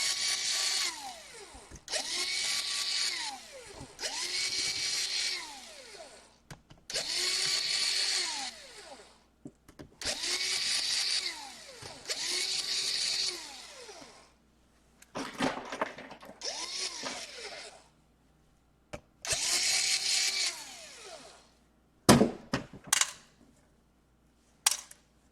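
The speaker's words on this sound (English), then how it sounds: "now we have to unscrew all of the screws here." An electric screwdriver whirs in repeated bursts while unscrewing screws from an Acer R15 R5-571T laptop, each run rising and falling in pitch, with a few sharp clicks and clatters near the end.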